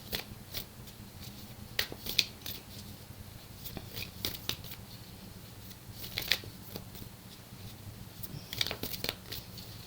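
A deck of tarot cards is shuffled in a series of close, crisp riffling bursts, each a quick flurry of flicks and snaps separated by short pauses, with no talk.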